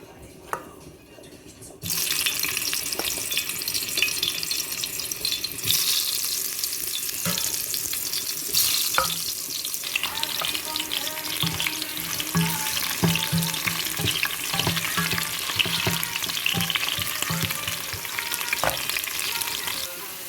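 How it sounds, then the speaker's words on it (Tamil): Potatoes dropped into hot oil for a squid and potato curry, a loud continuous frying sizzle bursting in after a brief quiet start and holding steady with crackles and occasional stirring scrapes. "எண்ணெய் சூடாகிட்டது இப்போ நான் முதல்ல உருளைக்கிழங்க போட போகிறேன்"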